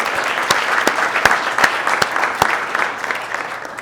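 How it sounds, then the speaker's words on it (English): A mid-sized audience at a State of Lagrange 2022 event claps steadily and loudly for a few seconds, a dense continuous patter with a few sharper individual claps standing out. "So I want to give a round of applause and congratulations early."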